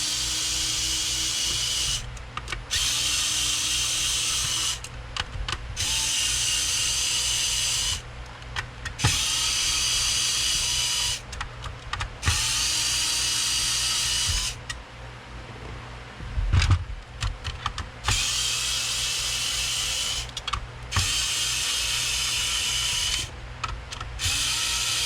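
A powered screwdriver with a PH1 Phillips bit backs screws out of a Nintendo GameCube's outer casing, whirring in about nine close, loud bursts of roughly two seconds each, separated by brief pauses with faint handling noise and no talking.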